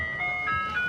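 A show car modified to play an ice cream truck jingle sends out a bright, tinkling electronic melody, loud and close, over a low background rumble.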